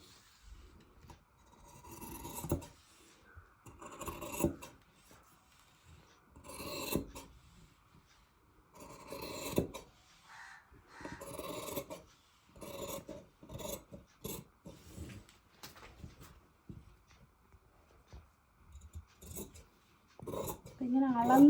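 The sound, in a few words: cutting folded cloth for a newborn baby dress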